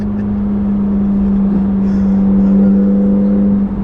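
A Chevrolet Corvette C8 Z06 engine holds a loud, steady high-rev drone from start to finish, heard up close with no speech over it.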